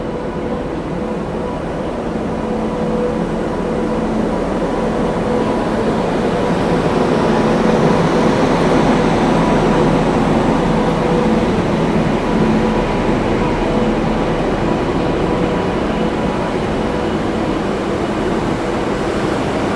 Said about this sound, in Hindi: तो ट्रेन प्लेटफॉर्म पे लगाई जा रही है।